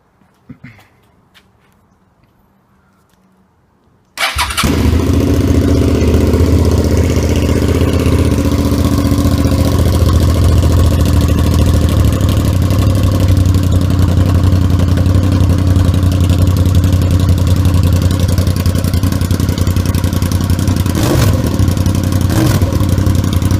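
After a few seconds of near silence, a 2008 Suzuki SV650 motorcycle with an M4 slip-on exhaust fires up loudly and settles into a steady, throaty idle that continues to the end.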